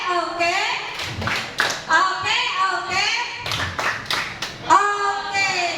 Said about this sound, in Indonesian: Kita beri tepuk oke untuk Bintang.